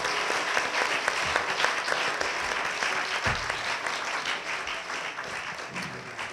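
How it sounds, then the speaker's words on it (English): A church-hall audience gives a panel discussion a final round of applause, steady dense clapping that fills the room throughout, close and loud, with no voices standing out. "Let's give the panel a last round of applause."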